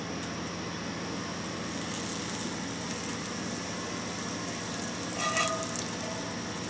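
Butter melting and sizzling in a warm 8-inch cast iron pan, a steady soft frying hiss with a low hum underneath and a brief louder crackle near the end, no talking.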